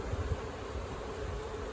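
Honeybees buzz at an open beehive during an inspection for American foulbrood, giving a soft, steady, continuous drone that is close but quiet, with no talking.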